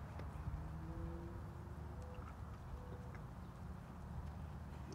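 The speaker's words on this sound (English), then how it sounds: "When you're ready, from a walk into the canter." A horse moves from a walk into a canter in a riding lesson, its hoofbeats faint and steady against a quiet, hissy background.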